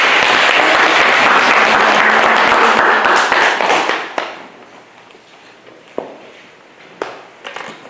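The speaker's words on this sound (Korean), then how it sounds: "한 번 더 뜨거운 박수를 주세요" Audience applause closing a lecture at a Won Buddhist citizens' meditation hall in Busan, loud dense clapping that fades out after about four seconds, followed by a few sharp isolated claps in a quiet room.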